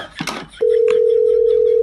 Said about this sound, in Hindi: अरे फोन क्यों काट रहे हो तुम?